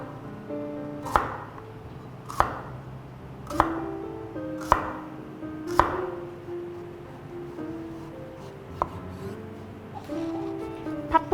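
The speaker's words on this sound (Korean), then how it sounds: "씨를 빼낸 참외는 무처럼 나박 썰기를 해줄 건데요" A knife slicing seeded Korean melon into thick squares on a board, about eight distinct chops at a slow, even pace, close by with faint background hum and no talking.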